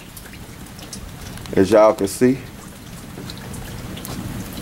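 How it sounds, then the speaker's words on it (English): Rain falls outdoors on a cloudy day beside a barbecue, a continuous hiss and patter throughout, briefly under a short spoken remark. "It's raining"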